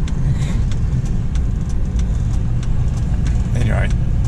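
A Massey Ferguson 65 tractor engine drones steadily while driving along a road, a loud continuous low rumble close by with some rattling and wind noise.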